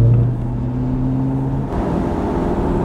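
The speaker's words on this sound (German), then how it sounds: "Soll ich nochmal Gas geben hier?" A car engine runs close by, holding a steady hum with a throaty low tone, then shifts and roughens partway through as the throttle is blipped.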